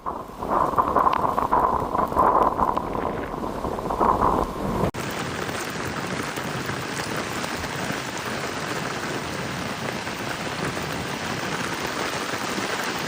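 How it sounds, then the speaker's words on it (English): Heavy rain pounds down while floodwater surges north of Mecca, a loud dense roar of rain and rushing water mixed with wind buffeting the microphone, continuous throughout with no clear voices. "السيول تمشي والمطر يضرب"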